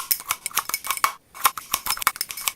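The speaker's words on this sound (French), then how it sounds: "Un verre, du persil, des ciseaux, et on coupe comme ça." Scissor blades snip rapidly at fresh parsley inside a glass, a close, fast run of sharp clicking cuts against the glass with one short pause midway and no talk.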